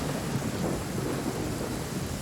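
A thunderstorm with heavy rain in the video game Genshin Impact: a dense, steady downpour hiss with low rolling thunder rumble underneath, continuous and fairly loud throughout.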